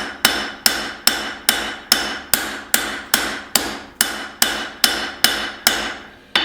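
A hammer strikes a hot knife blade on an anvil while forging an integral bolster knife, about fourteen sharp ringing blows in a steady, even rhythm, close and loud, with no talking.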